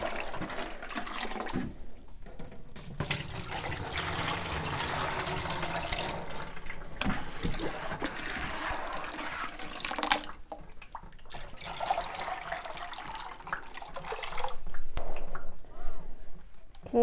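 Ceramic glaze made from raw materials pours from one bucket into another with a side-handled pail, a steady nearby splashing stream that runs for several seconds and swells near the end.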